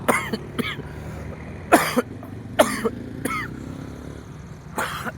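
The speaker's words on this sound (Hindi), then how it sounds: "सर्दी की वजह से यार खांसी बहुत हो गया" A person with a cold coughs repeatedly in short, rough bursts, with gaps between fits and a faint low rumble in the background.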